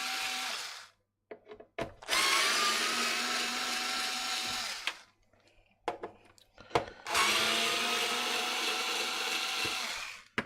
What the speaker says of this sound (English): A little bit of noise while I undo these frame screws.